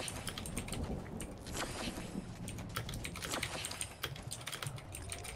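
Computer keyboard typing clatters in rapid, uneven bursts of sharp clicks and taps, close and continuous for several seconds.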